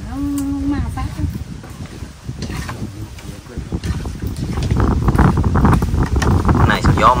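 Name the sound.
strong wind by a river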